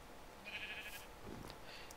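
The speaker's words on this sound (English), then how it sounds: "but there's still sheep up here." Sheep bleating in the Minecraft video game, a short synthetic bleat heard once near the middle at moderate loudness over a faint background.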